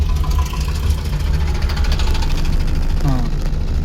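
A car engine hums low and steady as it is gently revved during a driving lesson, a continuous rumble close by with a voice faintly in the background.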